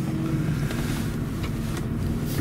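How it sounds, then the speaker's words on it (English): Low, steady rumble of a 2008 Maybach 57S's V12 engine heard from inside the three-ton Mercedes-Benz luxury sedan, a dense, continuous hum with faint wind-like hiss over it and no one talking. "you can hear that they've allowed you to hear a residue of this V12 engine noise"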